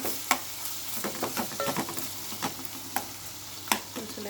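Okra and tomato fry in a pan with a soft sizzle while a utensil stirs and scrapes, giving irregular taps and clacks at close range and no speech.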